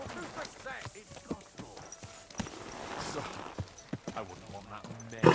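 Horse hooves clip-clopping in the Kingdom Come Deliverance 2 game, a steady, moderately faint stream of hoof beats with a voice speaking over them.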